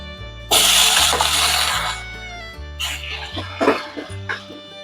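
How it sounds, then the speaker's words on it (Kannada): Liquid splashes and pours into a pan in a loud burst as pressure-cooked chicken and its water go in for chicken sukka, followed by scraping and clinking of a utensil against metal over background music. "ಎಲ್ಲ ನೀರು ಸಮೇತ ಹಾಕಬೇಕು"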